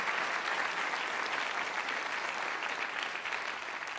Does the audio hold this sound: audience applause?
yes